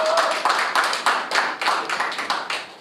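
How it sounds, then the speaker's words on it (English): A debate audience claps briefly, a dense patter of hand claps at close range lasting under three seconds with no voices over it. "Clap them."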